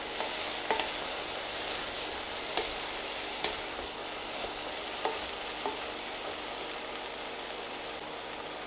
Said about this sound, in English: it's time to put in the onions, and we're going to cook these down as well